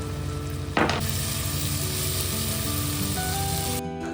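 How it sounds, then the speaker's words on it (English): Garlic paste hits hot oil in a pan for a spicy Sikkim-style aloo thukpa, bursting into a loud continuous sizzle with a brief sharp flare early on and scraping stirring throughout. "Next, add 3 teaspoons of garlic paste and stir."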